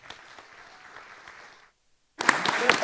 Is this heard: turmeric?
no